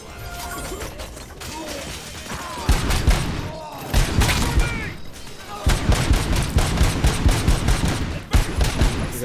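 Dense gunfire from RoboCop: Rogue City's video game combat, loud rapid bursts and mechanical clatter filling the whole stretch, with heavier volleys after the opening seconds and faint talk mixed underneath.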